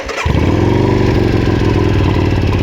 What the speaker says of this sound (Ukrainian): О, отак цей байк заводиться.